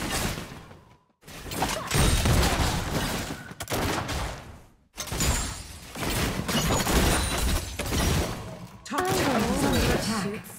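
Miss Fortune's guns fire in the mobile game Wild Rift as dense, rapid volleys of shots in several loud bursts separated by short gaps, with game voice lines over the gunfire.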